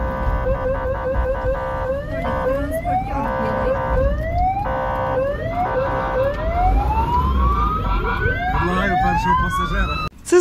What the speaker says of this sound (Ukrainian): Кожного разу, коли пожежний авто мчить на виклик, голосно лунають сирени.